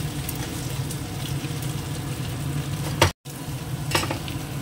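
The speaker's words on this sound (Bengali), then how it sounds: "এবার দিয়ে দেবো এই ম্যাগিগুলো একটু করে ভেঙে" Broken Maggi noodles fry and get stirred in a pan, a steady close sizzle with scraping stirs and a brief break before the crackling resumes, no talking.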